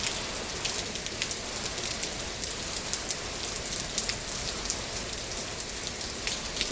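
Steady afternoon rain falls on a surface in a continuous, even hiss with scattered drop patter, moderately close and alone.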